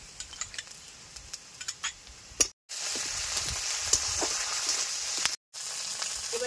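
Ginger garlic paste frying in a pan with cumin for a kofta curry, a steady close hiss and sizzle with light stirring, broken by two brief dropouts to silence.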